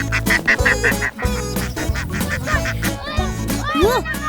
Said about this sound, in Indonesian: Menangkap bebek bukan hal yang mudah, teman. Si kuek-kuek ini terkenal cukup sulit ditangkap.